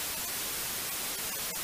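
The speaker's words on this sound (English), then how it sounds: "the white noise" Constant, hissing white noise fills the whole range evenly and without a break, serving as a raw starting sound for a delay effect.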